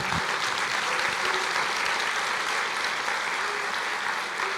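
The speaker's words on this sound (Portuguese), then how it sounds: "Você pode aplaudir o Senhor?" A church congregation applauding, a steady, dense wash of clapping that holds at an even level throughout, with no voices standing out.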